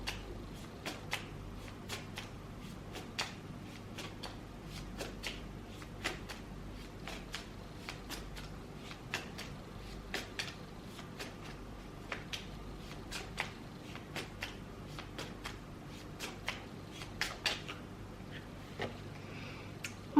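Tarot cards shuffled over and over near the microphone, soft riffling and repeated sharp flicks and taps in an uneven rhythm, quiet and with no talking.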